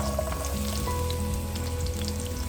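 Sliced onion frying in half a cup of oil in a pan, a steady close sizzle with light crackles running the whole time and no talking.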